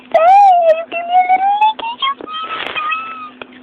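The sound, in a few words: pet cat meowing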